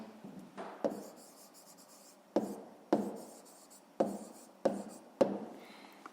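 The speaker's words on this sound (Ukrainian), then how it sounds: "записуємо тоді відповідь до цього завдання" A pen writes out the answer to a fifth-grade maths exercise, with a series of sharp scratchy strokes and taps in an irregular rhythm, close and fairly quiet, with no talking.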